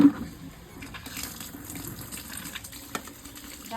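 Tap water runs steadily at moderate level, a continuous splashing flow with a few small clinks, no voices over it.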